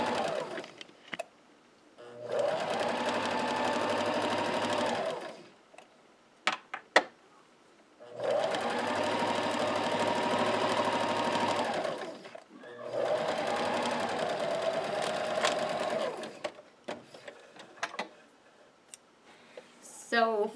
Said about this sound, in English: sewing all the way down on our